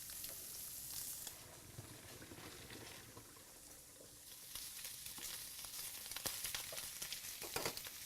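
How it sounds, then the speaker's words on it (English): Cooked linguine being drained, with a steady hiss of pouring water and steam splashing into a sink over about eight seconds, rising and spattering more toward the end. "we're ready to drain our pasta"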